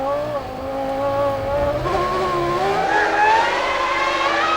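Formula 1 cars from the 2000 season scream past at racing speed, a Ferrari overtaking a Williams, their high engine notes climbing and shifting in overlapping whines that rise steadily in pitch.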